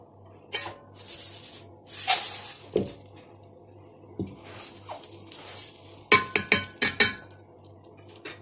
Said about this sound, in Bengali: এখন এই রাইস কুকারে ঢেলে দিচ্ছে।